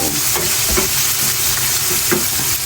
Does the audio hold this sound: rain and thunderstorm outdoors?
no